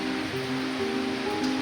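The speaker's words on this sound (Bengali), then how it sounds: "একটু আগে ধরো 8 ঘন্টা আগ থেকে শুরু হয়েছে বৃষ্টি।" Steady evening rain falls outdoors as an even, continuous hiss with no voices, joined by a faint low hum throughout.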